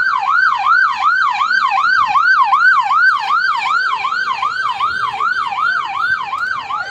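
An ambulance siren wails in a fast, regular up-and-down cycle, loud and close, with a slight fade as the vehicle pulls away from a riot scene.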